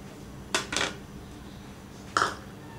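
Ground chana dal batter for masala vada being mixed in a bowl, with three short clattering scrapes of a utensil against the bowl, two close together and one a moment later, near and fairly loud.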